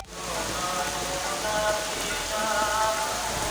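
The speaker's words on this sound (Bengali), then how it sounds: "মারাত্মক জোরে বৃষ্টি এসে গেছে" Heavy rain pouring down outdoors, a dense, steady roar of drops hitting surfaces that holds constant throughout without a break.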